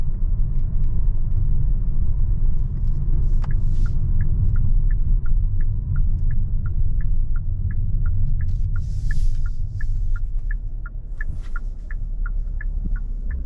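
A 2021 Hyundai Palisade Calligraphy AWD driven over a rough, bumpy road, heard from inside as a steady low cabin rumble with a faint, regular series of light ticks running through most of the stretch, no talking.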